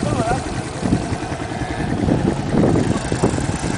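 A motorcycle engine at a hill climb event, a rough droning rumble running steadily beneath nearby talk.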